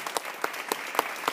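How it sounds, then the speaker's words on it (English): An audience applauds a speaker at Cambridge College, with steady dense clapping and a few louder individual claps standing out throughout. "you should clap way louder than you clapped before"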